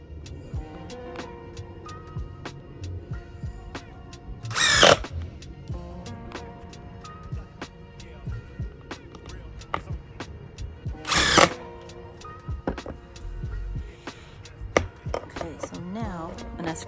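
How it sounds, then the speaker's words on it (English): Power drill boring a hole into an angled wooden furniture leg, a steady close whirring grind running throughout with two louder bursts partway through, plus scattered knocks and clatter. "and now we drill."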